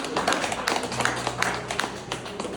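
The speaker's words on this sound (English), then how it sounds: "A round of applause is great." Applause from a crowd at an evening fundraiser for Brendan Sweeney's mayoral campaign in Beverly: a steady, dense patter of hand claps filling the room for a few seconds.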